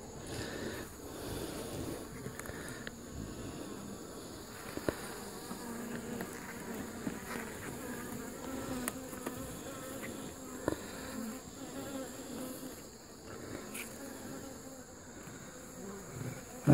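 Honey bees buzz steadily around old hive comb full of drones, with small hive beetles present, a close, continuous droning hum with occasional louder passes from individual bees.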